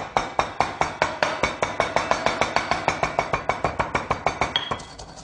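A pestle bashes spices in a granite mortar with rapid, evenly spaced sharp knocks, around thirty ringing strikes in quick succession, close and clear before stopping.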